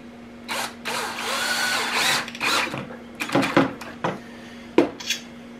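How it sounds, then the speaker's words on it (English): A power drill drives screws to join cabinet panels with a Kreg pocket-hole jig during a cargo trailer camper build. Several short whirring bursts are heard up close, mixed with clinks and clatter of screws and tools. "and screw them together"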